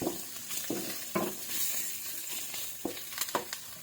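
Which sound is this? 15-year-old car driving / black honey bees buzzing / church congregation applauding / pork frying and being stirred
pork frying and being stirred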